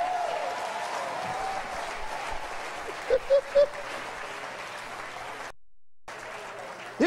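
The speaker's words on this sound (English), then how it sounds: "Clap your hands, all you people," Applause from an audience at a church sermon, a sustained wash of clapping with a few sharp whoops or shouts rising above it, broken by a brief silence near the end.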